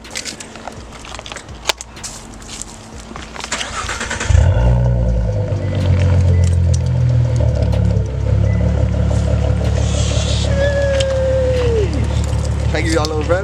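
A Ford Mustang engine cranks and fires with a sudden loud roar, then settles into a steady, rumbling idle as it warms up, with people talking nearby and a faint whistle near the end.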